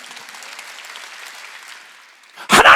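A church congregation claps hands at a Sunday healing service, a soft continuous patter of clapping that thins out before a sudden loud burst of shouting or clapping at the end.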